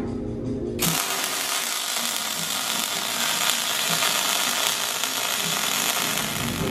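Welding a seam by pushing the weld, a loud continuous crackling hiss that starts abruptly after a brief quieter moment and runs steadily, close up.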